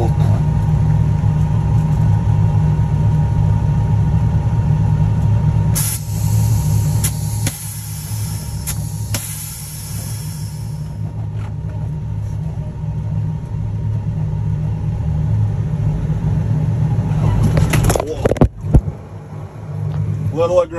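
A car engine idles with a steady low rumble in a burnout pit while the clutch is eased in, holding a constant drone with a few brief revs and clunks near the end; someone talks faintly over it.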